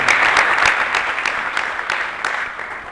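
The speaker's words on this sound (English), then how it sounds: "let's give him a round of applause." Audience applause at a Sri Radha Temple gathering for a devotional presentation, a steady dense wash of many hands clapping, loud and sustained for the whole stretch, easing slightly toward the end.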